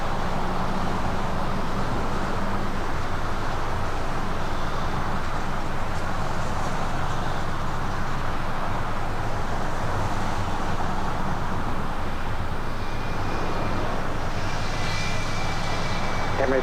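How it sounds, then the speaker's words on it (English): An Emirates Airbus A380 airliner rolls down runway 24 left at LAX on its takeoff run, a continuous loud jet engine roar with broadband rumble throughout, and some distant traffic-like noise mixed in. "the Emirates A380, flight 216 heading back to Dubai,"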